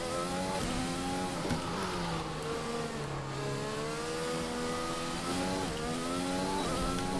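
Formula 1 car in the racing video game F1 2020 at the Zandvoort circuit: a loud, high engine wail climbing through the gears, with repeated rises and drops in pitch at each shift, steady and close throughout.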